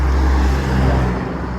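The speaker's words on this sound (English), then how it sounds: "Look at the big truck." A big overloaded truck carrying gravel passes on a street in Montego Bay, a loud, close, low rumbling roar that fades slightly toward the end, with no talking.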